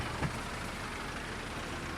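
Massey Ferguson tractor engine in Farming Simulator 22, a steady low diesel drone running continuously at moderate level, with one brief faint bump near the start.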